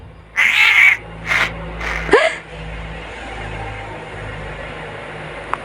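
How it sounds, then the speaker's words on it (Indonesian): A couple of cat meows close by, one drawn out, followed by a quieter background hum with a faint click at the end. "Suara kucing."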